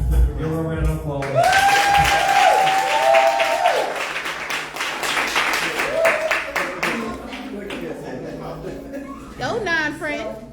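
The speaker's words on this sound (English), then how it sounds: "Give her a round of applause." An audience at a church ministry evening breaks into a dense round of applause that swells and then fades, with a voice calling out and singing-like tones over the clapping.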